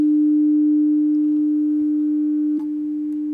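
The CW spot tone of a Yaesu FTdx10 amateur radio is a steady, loud, pure sine tone that holds unbroken throughout, with a faint click near the end and a slight drop in level after it.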